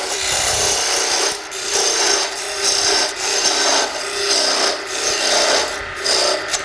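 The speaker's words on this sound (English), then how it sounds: "We'll come with a parting tool and go down to about 1/2 inch shy of all the way through." A parting tool cuts into a spinning piece of wood on a lathe, giving a continuous loud rasping scrape that swells and dips in steady pulses, close up and alone.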